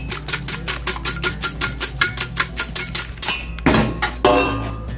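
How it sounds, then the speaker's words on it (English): A hand whisk beats a small amount of egg white in a bowl, giving a fast, even run of sharp metallic ticks against the bowl that break into a few scraping strokes near the end, close and alone. "I'm just going to start whisking this with a hand whisk"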